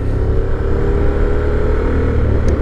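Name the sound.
Honda Forza 750 scooter engine in sport mode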